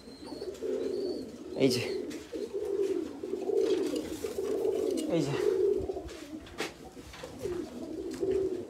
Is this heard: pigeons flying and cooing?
yes